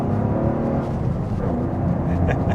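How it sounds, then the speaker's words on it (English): Three-cylinder engine of a Toyota GR Corolla hot hatch with manual gearbox pulling away, a steady low drone heard from inside the cabin at a constant loud level. "Letting that 3-cylinder go a little bit."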